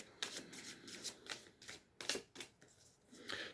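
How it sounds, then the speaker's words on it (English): Cards from a deck riffled and drawn up close, giving a quick series of crisp papery flicks and shuffles at an uneven rhythm, soft and alone with no talk. "I'm going to pull one more card just to finish."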